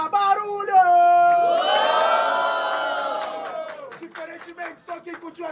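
At a Batalha do Forte battle rap semifinal, the audience erupts in loud massed cheering and whooping, a sustained roar of many voices that swells and then fades into scattered shouts and claps.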